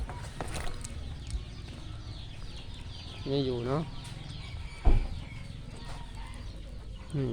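Fighting roosters at a Thai chicken and pig farm give a few clucks and a short crowing call amid steady outdoor background noise, with someone talking nearby.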